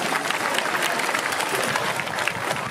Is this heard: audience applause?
yes